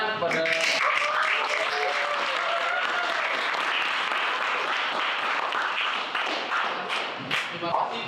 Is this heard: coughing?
no